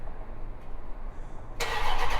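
Dodge Charger engine cranking to life by remote start with the horn switched off, a quiet low rumble that bursts into a loud broadband start-up and settles into a running idle, no talk.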